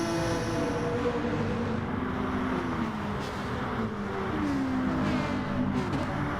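Gr.3 race cars in Gran Turismo Sport accelerate from a rolling start, a dense steady engine drone with rising and falling rev pitches from several cars running together, loud and continuous.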